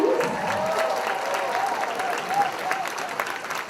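Audience applause at a cotillion and beautillion scholarship awards ceremony, honoring dads and boys, with dense continuous clapping from a large crowd and scattered voices and cheers underneath.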